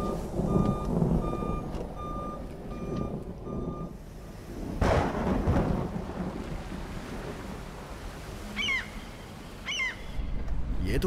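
A van turns around in the rain, with a series of evenly spaced reversing beeps, a heavy whooshing thud partway through and low engine rumble under rushing rain and wind.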